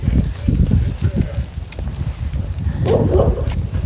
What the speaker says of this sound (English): Always dogs barking.